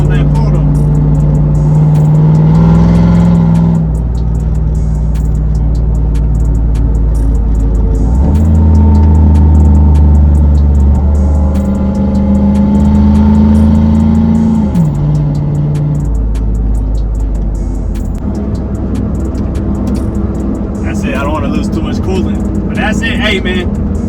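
A cammed single cab Chevrolet Silverado cruising along, its engine droning loud and close with rising and falling pitch as it accelerates and shifts, while someone talks over the rumble.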